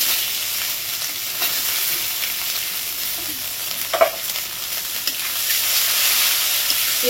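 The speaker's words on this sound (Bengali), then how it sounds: "পেঁয়াজটা একটু ভালো করে ভেজে নেব, না কাঁচা পেঁয়াজ তো পুরো ব্রাউন করে ভেজে নিতে হবে।" Chopped onion frying in oil with whole spices such as cardamom, a steady close sizzle with faint stirring scrapes and one brief louder clatter near the middle.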